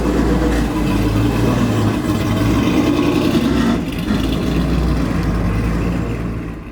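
A 1967 Chevy C10 truck with an LS engine and air suspension runs steadily, with a loud, close, low engine rumble that dips slightly near the end.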